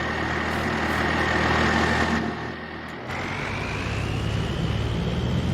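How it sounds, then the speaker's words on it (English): A loud truck engine idles in Farming Simulator 22, a steady rumbling drone that dips briefly in the middle before settling back to a constant hum, with no talking. "That truck is loud."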